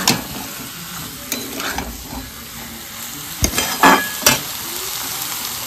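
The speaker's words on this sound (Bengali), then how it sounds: "এইভাবে ভালো করে ওপাশ ওপাশ নেড়ে নেব" Potatoes for a nigella-seed aloo dum stirred in a hot pan, with sizzling frying under repeated spoon scrapes and knocks, loud and close, no voices.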